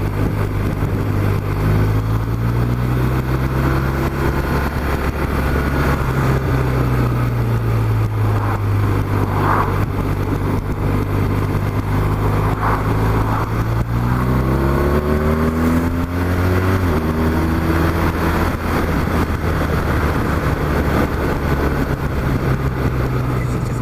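A 2015 BMW R1200RT motorcycle hums loudly and steadily while being ridden, its engine note rising and falling through gear changes over constant wind rush, with no talking.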